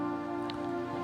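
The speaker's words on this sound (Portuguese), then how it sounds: "Caiu a chuva" Steady rain falling, a constant soft hiss with faint drops on a surface, continuous and even throughout, lying under a sustained musical drone.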